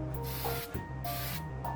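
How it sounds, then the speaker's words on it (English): A rattle can spraying cold galvanizing compound onto a pumpkin, short hissing bursts in quick succession, close up over a low background hum. "Our second pumpkin will get the cold galvanizing compound in convenient rattle can"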